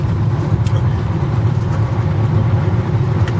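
Steady road traffic on the Tbilisi ring road in Georgia, with car engines rumbling and hissing past in a constant, fairly loud low drone and no distinct pauses.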